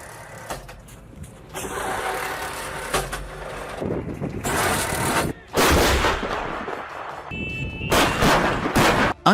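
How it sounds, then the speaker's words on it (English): A Soviet-era 2S7 Pion 203mm self-propelled artillery gun fires several loud, heavy booms in succession, each a broad, sharp blast, with rumbling engine noise and echo filling the gaps between shots. "These units can be utilized by the Tu-7 Pion, a 203mm self-propelled artillery gun from the Soviet era"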